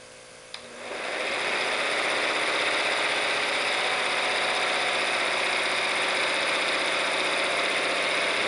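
A Visible V8 model engine catches after a brief click and runs steadily at high speed on a new high-speed controller, a loud, even mechanical whine with rapid buzzing that holds constant to the end, no talking.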